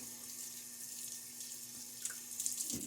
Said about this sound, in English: My hands need to be rinsed off.